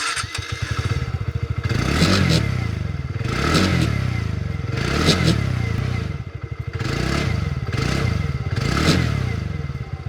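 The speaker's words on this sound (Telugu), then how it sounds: "ఎగ్జాస్ట్ నోట్ ఎలా ఉందో ఒకసారి చూపిస్తాను." A 2025 TVS Ntorq 125 Race XP scooter is revved repeatedly close up. Its exhaust note swells in about five rising pulses, each settling back to a throbbing, clattery idle, with no talking.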